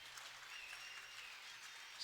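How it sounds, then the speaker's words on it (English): Michigan fans at a college softball game applaud and cheer a departing pitcher, a steady wash of distant crowd clapping that holds evenly throughout without voices standing out. "Storako exits to a round of applause and cheers from the Michigan fans"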